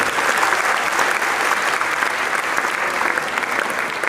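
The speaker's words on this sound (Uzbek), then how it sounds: "mana shu guldiroz qarsaklarni yo'llaydi." A large audience at a stage comedy contest claps in sustained, loud, dense applause that holds steady for several seconds, with no pauses and faint voices mixed in.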